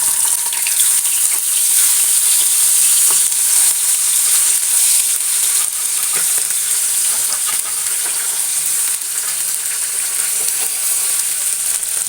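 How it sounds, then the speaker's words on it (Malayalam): Silver jewfish sizzles loudly and steadily in hot coconut oil, a constant crackling hiss throughout with a few small pops and clinks, no voices. "വെളിച്ചെണ്ണ ചൂടായി ഓരോ മീൻ ഇട്ട് കൊടുക്കാം"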